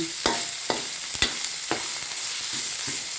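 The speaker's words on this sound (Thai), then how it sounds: "จะผัดกับน้ำมันก่อนแล้วค่อยใส่กะทิทีหลัง" Chili paste and pork stir-fried in oil in a pan for a Thai coconut curry with sweet potato, with a steady sizzle broken by several sharp scraping strokes of a spatula.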